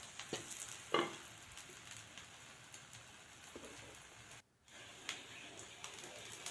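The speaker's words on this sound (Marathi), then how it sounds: "साईडनी तूप सोडून अगदी दोन मिनटं आपण झाकण ठेवून हे शेकून घेणार आहे" Dirde made from vari and sabudana roasting in ghee in a covered pan, a soft continuous sizzle and crackle with a few small pops, quiet and close, briefly dropping out midway.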